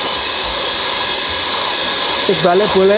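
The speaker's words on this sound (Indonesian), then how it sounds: "kita mixer antara 2 sampai 3 menit" An electric mixer whirs steadily while beating a sugar mixture for cake batter, a loud continuous motor drone that runs throughout. A person speaks briefly near the end.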